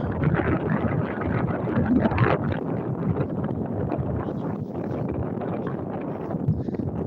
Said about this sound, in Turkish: bugün havalar burada rüzgar esiyor